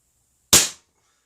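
A single sharp crack of a CO2-powered air gun firing a Grizzly 17.1 grain pellet, with a sudden loud onset and a quick decay into silence, heard up close.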